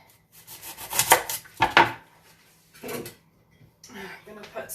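An onion being chopped in a home kitchen during risotto prep, a few irregular knocks and clatters of a knife on a wooden board with quiet gaps between, and a voice starting to speak at the end.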